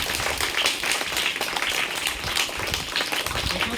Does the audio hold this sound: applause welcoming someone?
yes